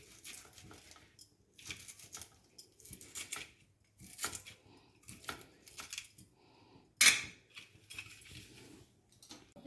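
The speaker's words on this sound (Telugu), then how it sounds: "శుభ్రంగా వాష్ చేసుకుని కొత్తిమీర కట్ చేసుకుందాం" Freshly washed coriander leaves chopped with a knife on a board, in uneven bursts of crisp cutting strokes separated by short pauses, with one sharper knock near the end.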